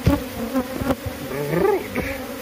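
A swarm of bees that has moved into a house buzzes loudly and close, with individual insects whirring past the microphone in wavering tones over a steady hum.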